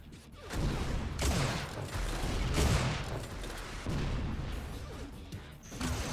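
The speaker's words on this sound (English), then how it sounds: "One shot and there it is, the rocket to the grill." Rocket launcher fire and explosions in an Unreal Tournament competitive match, heard as heavy booming blasts and rumbling impacts in a dense, continuous battle mix, loud and close.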